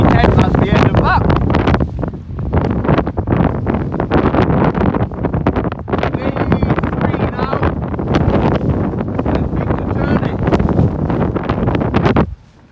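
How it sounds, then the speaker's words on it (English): Strong gusting wind from the tail of a hurricane on a camping trip on the Isle of Mull roars and buffets the microphone almost continuously, loud and close, with a voice talking underneath. "I don't even know if you can hear me there because of the wind"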